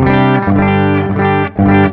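Loud, buzzy electric guitar chords through a Greenback cab with no preamp, struck a few times in quick succession, with a harsh, thin, fizzy character and no voices.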